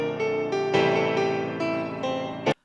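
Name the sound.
Nexus 'Clara' piano sound playing a chord progression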